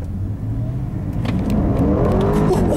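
A 2011 Porsche Panamera Turbo with all-wheel drive pulls hard under acceleration, its engine note rising steadily from a low rumble into a louder, climbing roar heard from inside the cabin, with no voices.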